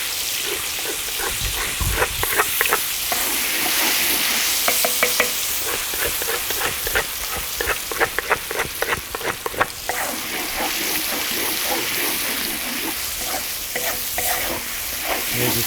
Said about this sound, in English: We'll just wait for that to warm up so the paste fries.